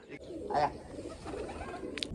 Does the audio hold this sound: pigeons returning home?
yes